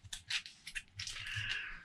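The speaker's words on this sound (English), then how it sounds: "So I have to shuffle this deck and then draw 3, store 1, and remove the rest" A deck of game cards is shuffled by hand during a tabletop game, a run of quick crisp riffling bursts followed by a longer steady flutter, close and fairly quiet with no talk.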